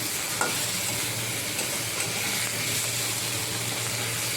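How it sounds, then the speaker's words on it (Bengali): Catla fish roe curry ingredients fry in a pan while being stirred, a steady close sizzle with faint scraping and a low hum running underneath, no talking. "আর একটু ভেজে নিচ্ছে"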